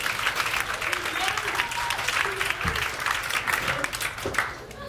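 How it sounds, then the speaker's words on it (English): A comedy show audience applauds at a weekly show held in a vegan juice pressery, with steady dense clapping filling the room as a voice speaks over it. "Keep the applause going for all the comics that you've seen on the show so far."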